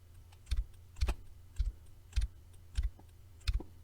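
Six short bursts of computer keyboard keystrokes, each a quick cluster of clicks spaced about half a second apart, fairly close and alone against a quiet background.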